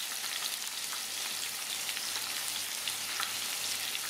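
Peppers, thyme, tomato and scallion sizzle steadily in a hot frying pan for a vegan ackee dish, a continuous close crackling fry with no talk.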